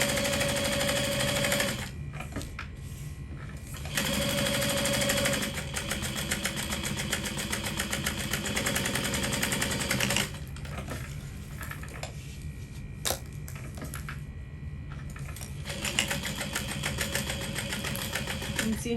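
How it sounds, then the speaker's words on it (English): A domestic sewing machine top stitches a Betty Bowler hat in several bursts of rapid mechanical whirring, near and fairly loud, separated by pauses where a person talks softly. "I'm just going to continue sewing"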